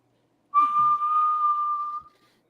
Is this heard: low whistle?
yes